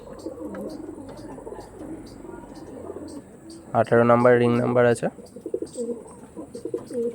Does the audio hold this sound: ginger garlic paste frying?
no